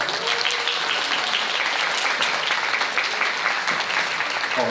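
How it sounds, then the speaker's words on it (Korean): Loud, sustained applause from a large crowd of wedding guests at Namsan Art Hall fills the whole stretch, a dense steady wash of clapping. "저희 큰 박수 한번 부탁드리겠습니다"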